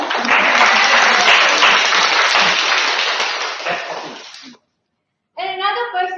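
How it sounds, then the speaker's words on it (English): A round of applause at a Toastmasters club meeting swells loudly, then gradually fades out over several seconds; after a short silence a voice begins speaking. "Can we have a round of applause for her?"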